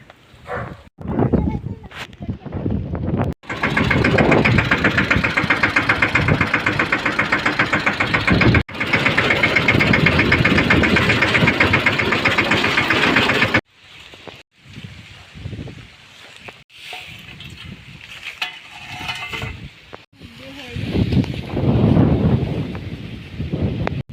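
A farm tractor's engine runs loud and steady for about ten seconds, then cuts out. Gusty wind buffeting and irregular bursts of noise follow on the open field.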